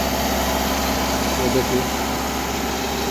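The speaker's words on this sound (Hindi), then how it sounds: "ये बाहर की तरफ इंजन का आरपीएम 2000 प्लस चल रहा है, और गाड़ी रिजर्वेशन में हो रही है।" A Hyundai Creta diesel engine runs steady at about 2000 rpm during DPF self-regeneration, a constant drone that stays level throughout while someone talks over it.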